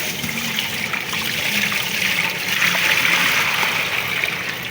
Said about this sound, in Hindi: इसमें 2 किलो सूजी में 8 किलो पानी डलेगा।